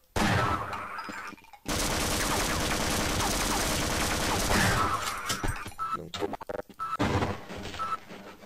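Automated turret gunfire in the Half-Life video game, a loud dense burst of rapid shots lasting several seconds, followed by scattered shorter bursts and cracks.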